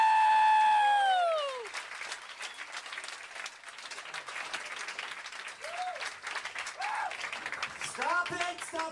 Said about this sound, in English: Stop it! Stop clapping!